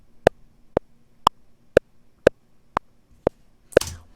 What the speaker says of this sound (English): We have made a simple click that sounds like this.